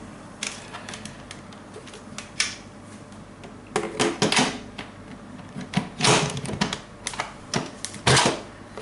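A pressure cooker lid being set on and turned to its closed position in a kitchen, heard as a string of sharp metallic clicks, clacks and scrapes that come in irregular clusters.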